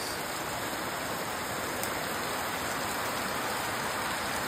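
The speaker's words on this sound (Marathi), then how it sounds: "बहुत सारा पाऊस." Heavy rain hisses down without a break, a dense, loud roar of drops striking nearby surfaces that never thins out, and no voices can be heard.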